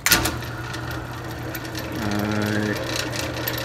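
A small countersink bit driven by a power drill bores into the back of a clipboard to seat a rivet, giving a steady whirring motor whine that rises in pitch briefly midway through.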